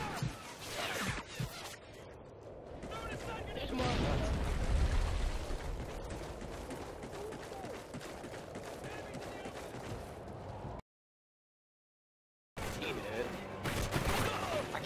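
Rapid gunfire from the Call of Duty: Ghosts video game, a dense, continuous barrage of shots and blasts during an online match, with players talking over it and a brief silent gap near the end.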